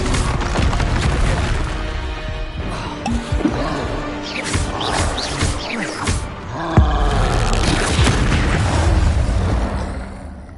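A Bombarda blasting spell in the Hogwarts Legacy video game sets off loud booming explosions with crackling, splintering debris amid ongoing combat effects, a heavy blast landing near the middle.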